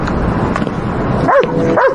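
A single dog barks twice, sharp and fairly close, the yaps landing near the end over a steady background of ambient noise in an old-time street scene.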